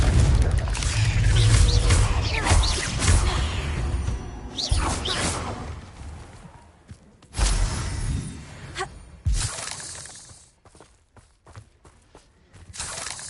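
Hogwarts Legacy's Confringo blasting spell goes off as a loud, rushing explosion with crashing and shattering debris. Further blasts and whooshes follow, then the din thins out into quieter rumbles.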